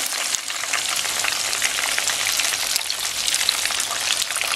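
Chicken and cheese rolls fry in hot oil in a pan, giving a dense, close, continuous sizzle and crackle with no voices.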